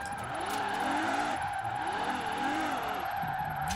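A car drifting and spinning out in Forza Horizon 4, its engine droning steadily while the tires squeal in wavering, looping skids, fairly close and without talk.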